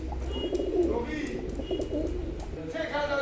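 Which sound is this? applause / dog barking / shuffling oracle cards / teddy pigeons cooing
teddy pigeons cooing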